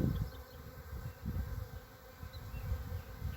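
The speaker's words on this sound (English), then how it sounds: "There are the bees doing an orientation flight and using that bottom entrance with no problem." Honey bees buzz around the bottom entrance of a long Langstroth hive during an orientation flight, a close, wavering drone of several insects that swells and fades.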